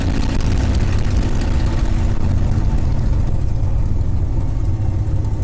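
A TF-51 Mustang's piston aircraft engine running at idle, a steady deep rumble with constant low throb and broadband roar, close and loud without pause.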